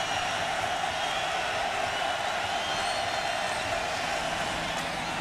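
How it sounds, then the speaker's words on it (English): Football crowd at the Orange Bowl during a Miami versus Florida State college game, a dense, steady roar of cheering that holds at an even loudness throughout without pause. "the crowd at the Orange Bowl comes to life for the defense"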